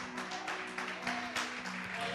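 A church congregation applauds, a faint steady patter of clapping with a sustained musical tone underneath throughout.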